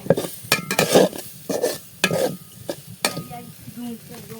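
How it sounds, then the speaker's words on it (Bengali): Spices frying in oil in a pot over a clay stove, stirred with a utensil: close scraping strokes and metallic clinks in an uneven rhythm over a steady soft sizzle, with no talk. "মশলাগুলো এভাবে ভালো করে তেলের সাথে কষিয়ে নিব"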